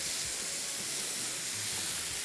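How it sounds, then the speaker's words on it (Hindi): Omelette ingredients fry in a pan, a steady close bright sizzling hiss with faint low clatter beneath, no voices. "तो इसको थोड़ा सा फ्राई किया।"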